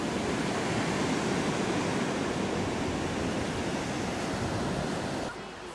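Ocean surf at a beach along the Great Ocean Road forms a continuous, fairly loud wash of breaking waves that eases off sharply in the final half second.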